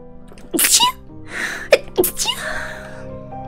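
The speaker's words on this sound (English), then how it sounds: "I need to sneeze." A single sharp sneeze rings out up close and loud against a quiet, faintly humming background, followed by a short gasping breath and a smaller second burst.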